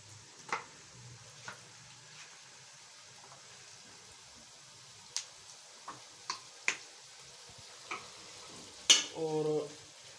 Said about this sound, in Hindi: और इसको हम इस तरीके से हिला देंगे ताकि ये मिक्स हो जाए